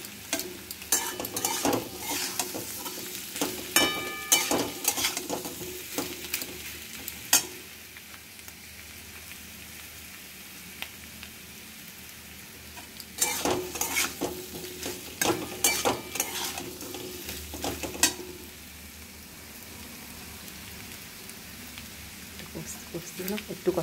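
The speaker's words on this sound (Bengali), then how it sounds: "একটু কষতে দিলাম।" Food with salt sautés in a pan, with bursts of spatula scraping and clattering stirs separated by quieter stretches of low sizzling, moderately faint and close.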